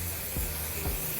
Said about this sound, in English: and texture spray